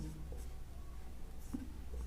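Pen scratching across paper while quadratic-formula notes are written for a Class 10 maths lesson, a steady soft scraping with faint low room hum and a brief tap midway.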